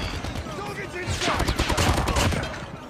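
Rapid gunfire from a Call of Duty match rattles in quick bursts, a dense crackling fusillade that grows louder in the second half, with a voice talking over it.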